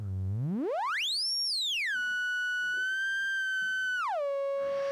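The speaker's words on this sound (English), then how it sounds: "Let's have a listen to the triangle wave." A triangle wave tone from an AE Modular VCO, a clean pure pitch that sweeps up high, drops, holds steady, then falls to a lower sustained note, loud and alone.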